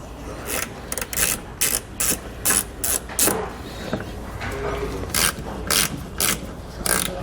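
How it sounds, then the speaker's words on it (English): A hand ratchet backing out screws from the lower front fascia of a 2017 Audi Q, close and loud in quick bursts of rapid clicking separated by short pauses. "on the lower part of our fascia, left and right of center, we're going to have 2 screws we need to remove"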